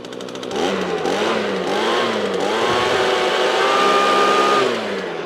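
A small engine on winterized outdoor equipment fires on the first pull and keeps running, a loud close buzzing drone with uneven revs that rise and dip before settling.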